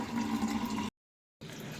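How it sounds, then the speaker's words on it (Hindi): Water running from a tap into a bottle, a steady close pour that cuts out briefly and then resumes, with no talking. "तो यहाँ पानी भर रही हूँ।"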